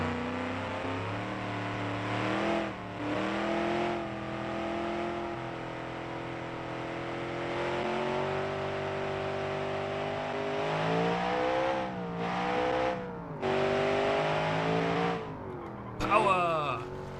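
Car engine in the BeamNG driving game revs hard and climbs through several gears, its rising tone dropping at each shift, loud and close, with a brief squeal near the end.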